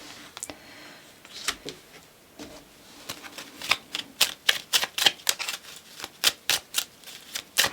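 Tarot cards shuffled in a steady run of crisp riffling snaps, close and clear, each burst short and evenly paced with no talk.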